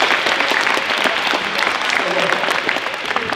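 School assembly audience gives a steady round of applause, a dense continuous patter of many hands clapping at even loudness, with faint voices mixed in.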